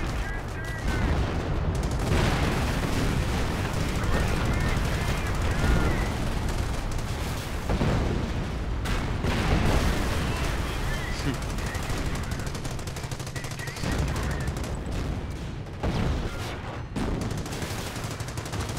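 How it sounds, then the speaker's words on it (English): Dense artillery and machine-gun fire from a Company of Heroes battle rolls on continuously at high volume, with booms and rapid bursts layered throughout and brief lulls, while voices talk intermittently underneath. "Artillery. Artillery on the way."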